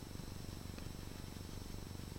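A contented cat purrs quietly in a steady, rhythmic low rumble that runs unbroken and faint throughout, with no talking.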